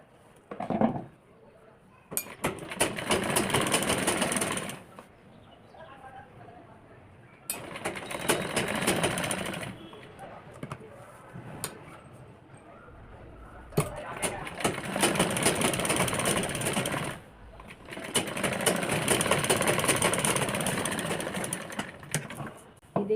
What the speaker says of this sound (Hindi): इस पर बिल्कुल बराबर करके सिलाई लगा लेंगे